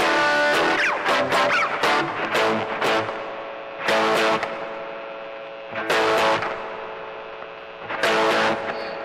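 Electric guitar through the virtual amp of a TASCAM DP24 multitrack recorder with distortion engaged, gritty picked notes and chord bursts in several short phrases, each sustaining and decaying over a steady background hum.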